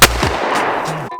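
A Benelli Super Black Eagle 2 shotgun fires at sporting clays: one sharp, loud blast opens, followed by a long decaying outdoor rumble, then a second shot just before the end.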